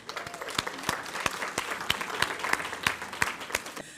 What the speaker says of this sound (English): I want to just have you give yourselves a round of applause for joining us.